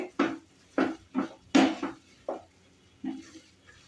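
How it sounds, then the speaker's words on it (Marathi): A spoon stirs a thick coconut-jaggery modak filling after cardamom powder is added. It makes about seven separate scraping, knocking strokes against the pan in an uneven rhythm, close and moderately loud, with nothing else heard. "मी गॅस बंद करते आणि त्याच्यामध्ये घालते वेलची पावडर. परत जरा मिक्स करून घेते."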